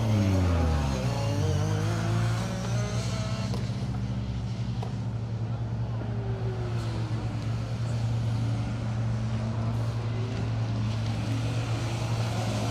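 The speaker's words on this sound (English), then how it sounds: "And Escort Cosworth slipping and sliding its way around Cadwell Park." Ford Escort Cosworth rally car sliding around the Cadwell Park circuit during a circuit rally, its engine droning steadily at moderate distance for the whole stretch while a commentator talks over it.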